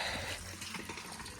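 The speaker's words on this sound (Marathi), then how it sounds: "ते आज पाणी पण भरतात देखा" Water runs steadily from a tap into a container, a constant close gushing sound with no talking.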